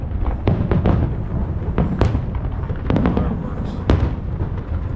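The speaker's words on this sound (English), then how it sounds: "Fireworks." Eid fireworks exploding over al-Khobar, Saudi Arabia, a steady outdoor barrage of booms and crackling bursts with sharp louder pops scattered throughout, fairly near and continuous.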